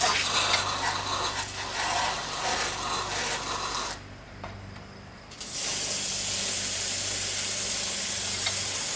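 Insecticide aerosol hisses loud and close onto a bees' nest near a barndominium wall, a long steady burst that pauses for about a second and a half, then resumes just as strongly to the end.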